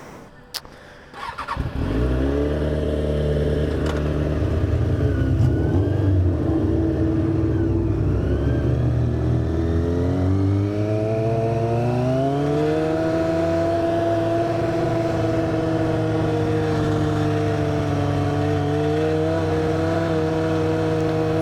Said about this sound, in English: Freaking hear my exhaust rattling.